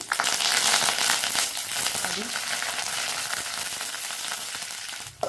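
Mustard seeds, cumin, garlic cloves, dried red chili pieces and curry leaves fry in hot oil, a close, crackling sizzle that is loudest at first and then settles into a steady softer hiss.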